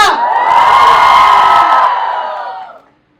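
A crowd of college students cheers and whoops loudly in a sustained roar of shouting voices, which then fades out over the final second.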